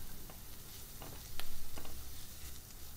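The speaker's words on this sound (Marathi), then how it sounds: "व्यवस्थित परतून घेऊया।" Crushed peanuts and chopped coriander sizzle as they are sautéed in a pan, a faint close frying hiss with brief stirring scrapes.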